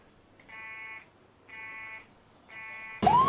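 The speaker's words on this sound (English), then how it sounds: "Thank God that fucking alarm shut up." An alarm buzzer in the Emergency 4 firefighting video game sounds in three evenly spaced, moderately loud half-second bursts, then is cut off by a sudden louder noise at the end.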